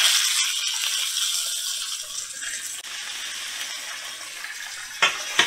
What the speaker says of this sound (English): let's take a look at our steaks and turn them over and see how beautiful they look